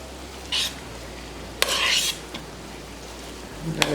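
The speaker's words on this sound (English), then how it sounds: "So I'm gonna mix that in and see how that works out for us." A spoon stirs chicken salad in a bowl, making a few short scraping, squelching strokes close by with light clinks in between, and no speech.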